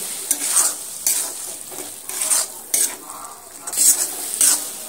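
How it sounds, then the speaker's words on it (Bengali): Tomato and spices sautéing in a pan for an egg curry, with a steady sizzle broken by repeated scraping stirs from a spoon, close and fairly loud, no voices. "মশলাগুলো দিয়ে আমি আবারও সুন্দর করে মিনিট 5 সময় নিয়ে টমেটোটা সুন্দর করে কষিয়ে নিতে হবে"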